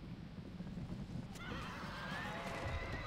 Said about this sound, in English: they've already got their light cavalry rushing in